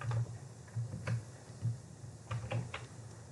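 Irregular soft clicks of keys being tapped on a computer keyboard, close by, with a low hum underneath.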